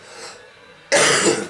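A harsh burst of coughing or throat clearing starts abruptly partway through and continues loud and close to the end, following a quieter breathy stretch.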